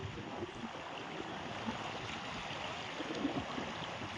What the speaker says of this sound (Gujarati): હવે પાણીનો આટલો બધો પ્રવાહ છે કે કેનાલમાં તો પાણી જાય જ છે